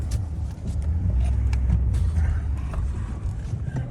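A car drives along and accelerates, its engine a steady low rumble that swells and holds close by, with road noise and no talking.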